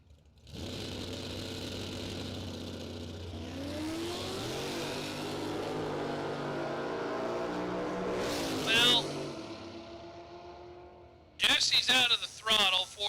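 Drag race cars, including a right-side Camaro in a bracket race, roar steadily down the strip with rising engine drone, while an announcer talks over them throughout and a sharp burst of sound hits near the end.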